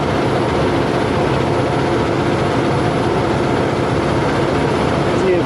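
A vehicle engine laboring steadily in low gear while driving a mountain road in the Monashee Mountains, a loud, continuous low drone with constant road and wind noise and no break.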